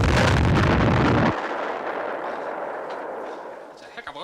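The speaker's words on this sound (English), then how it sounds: "It's just Zaruthian's headquarters exploding into action." A headquarters blowing up in a movie: a massive deep blast opens the clip, then cuts to a long rumbling, crackling debris roar that slowly fades.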